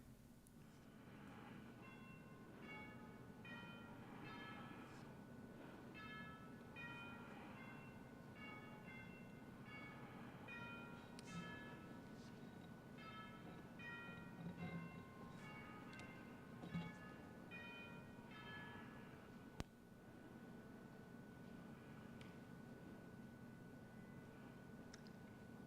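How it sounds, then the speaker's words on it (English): Chimes in the Colorado Senate chamber ring a long, even series of soft, bell-like tones over a quiet room hum for a moment of silence, then fall still near the end. "and the Senate chimes will ring"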